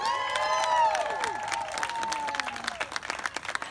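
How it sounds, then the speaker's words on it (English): Crowd at the grand opening of a bed and breakfast inn applauding and cheering, with loud whoops and shouted voices over steady clapping that continues after the cheers fade. "I think we all owe a huge round of applause for the keeper of the flame, Miss Carole Johnson."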